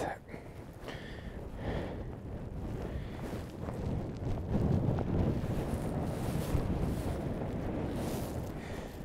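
Strong wind buffeting the microphone at a wild camp on Dartmoor, a continuous loud roaring rush that swells and gusts throughout.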